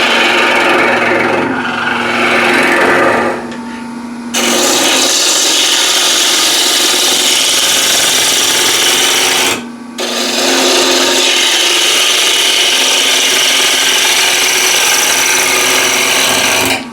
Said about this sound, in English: This is ball gouge.